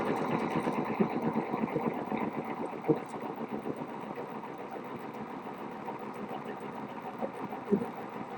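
Small gas-powered air compressor engine idling steadily and fairly quietly, a continuous even drone with slight mechanical ticking throughout and no one speaking.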